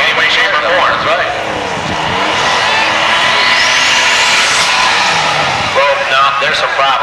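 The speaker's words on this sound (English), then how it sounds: "Engine RPMs come up, and you hear something cut out, and there's a problem in there that's going to have to be addressed." A pulling tractor's engine roars and revs at a truck and tractor pull, with a possible misfire or cut-out, as a steady loud drone rises in pitch while announcers talk over it.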